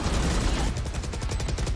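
Rapid automatic gunfire sprays in a competitive tactical shooter match, a loud continuous stream of shots with dense bass thumps that runs throughout.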